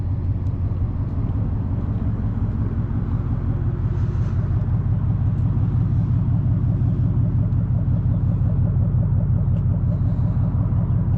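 A 2024 Ford Mustang GT Premium with a 5.0 V8 rumbles steadily at idle, a loud, deep, throbbing low pulse held constant and close throughout.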